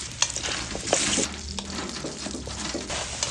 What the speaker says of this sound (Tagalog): So prituhin natin. Ilagay natin yung 2 sangkap.